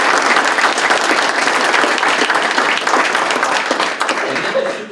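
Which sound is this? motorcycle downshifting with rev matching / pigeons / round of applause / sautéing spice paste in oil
round of applause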